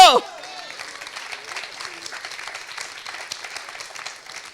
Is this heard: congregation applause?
yes